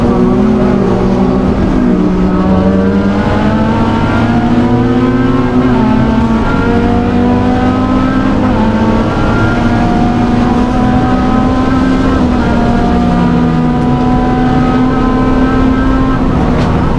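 A pack of GT3 and GT4 race cars, among them a BMW, thunders down the Denny Holmes straight toward Higgins corner at the GTRNZ OctoberFAST race, a loud continuous blend of engines rising and falling in pitch as they pass.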